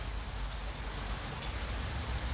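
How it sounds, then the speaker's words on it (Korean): Steady rain falling on an empty forest pavilion on a quiet afternoon, a continuous soft hiss with low rumble, even and unbroken with no voices. "비가 오는 오후인데요"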